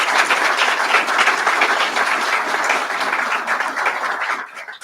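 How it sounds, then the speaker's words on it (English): A large audience at a medical school white coat ceremony claps in sustained, even applause that fills the room and tapers off at the end. "So please give a round of applause to everybody who's helped you on this journey."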